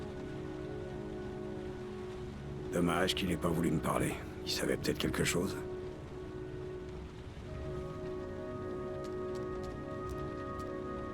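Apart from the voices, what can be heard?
rain falling in the video game Heavy Rain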